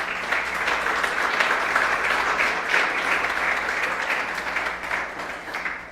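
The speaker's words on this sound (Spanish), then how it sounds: "Denle un aplauso al Señor." Dense, steady congregation applause during a church service, a continuous wash of many hands clapping at moderate volume that holds evenly from start to finish before easing slightly at the end.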